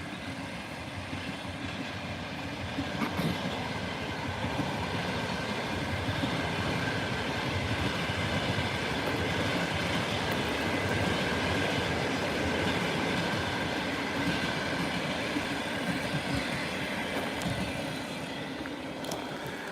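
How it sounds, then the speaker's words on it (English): A long-distance train passes without stopping through a small village near its railway station in Tavtimanovo, Russia, giving a steady, close rumble and clatter that lasts the whole stretch with no voices. "It seems like long distance train. The long distance trains never stop here."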